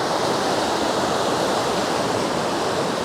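A river flowing beside a hiking trail in the Salentz gorge, Switzerland, a steady broadband rush of water, loud and constant with no voices.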